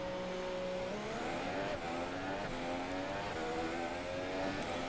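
A Haas Formula 1 car driven by Romain Grosjean heads out onto the Australian track in F1 2017, its engine whining and revving steadily with rising gear-shift pitch sweeps, loud and continuous.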